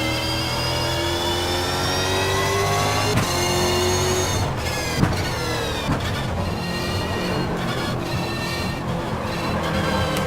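Stock car engine in the Stock Car Extreme racing sim, revving loud and steady with rising and falling pitch sweeps as it accelerates and shifts, continuous throughout.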